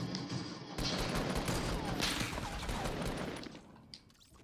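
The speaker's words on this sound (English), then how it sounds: "I hear you shooting." A dense volley of video-game gunfire crackles steadily for about three seconds, then fades, with no speech over it.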